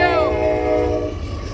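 Freight train led by three Dash 9 locomotives passing close and loud, a horn blast ringing over the heavy low rumble of engines and rolling cars.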